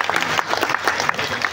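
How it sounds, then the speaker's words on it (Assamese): An audience at an annual parish Sabha gathering claps briefly in a quick burst of close, dense applause. "জোৰকৈ হাত চাপৰি মাৰিব"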